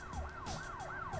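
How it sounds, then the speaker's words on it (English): An emergency siren wails in a horror film, its pitch sweeping down and back up in quick repeating cycles, steady and fairly loud with no talking. "Those are sirens."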